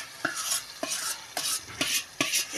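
Fish pieces being stirred into hot spiced oil with turmeric for a fish curry, the utensil scraping the pan in five evenly spaced strokes over a soft, steady sizzle, close and without talk.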